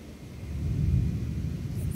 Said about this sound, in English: what you're hearing is like the grumbling noise is thunder